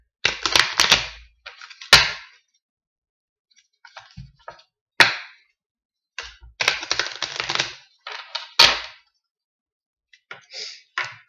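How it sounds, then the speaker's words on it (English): Game cards from a deck-building board game being shuffled by hand, a series of close, crisp riffling bursts and taps separated by short pauses. "Time to actually shuffle here."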